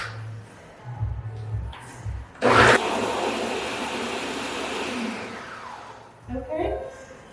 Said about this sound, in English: we're going to blend again.